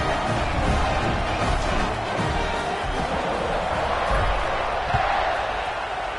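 A football stadium crowd before kickoff, a broad loud roar of cheering and shouting that stays dense and sustained, with a faint voice beneath.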